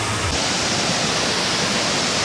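Kravica waterfall in Bosnia and Herzegovina roars with rushing water, a loud, dense, unbroken hiss filling the whole stretch with no voices.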